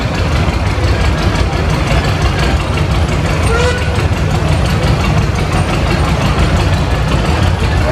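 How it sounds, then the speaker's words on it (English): A 1967 John Deere 4020 tractor rolls past in a small-town Iowa threshers' reunion parade, its engine a steady, loud, low diesel rumble under continuous crowd and announcer chatter. "1967 John Deere 4020 owned by Chuck Allen of Mount Pleasant, Iowa"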